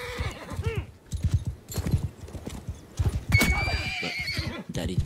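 A horse in the video game Mount & Blade II: Bannerlord gives loud, repeated whinnying neighs over steady clip-clopping hoofbeats. The sound is close and continuous, with no speech.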